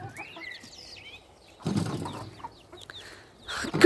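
Allotment chickens make soft, scattered clucks and chirps, with brief bursts of scuffling or wing flaps between quiet gaps, heard close by.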